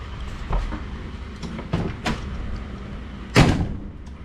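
A 1964 Chevy Impala's car door thumps shut with a solid, crisp close, preceded by a few lighter clicks and knocks nearby.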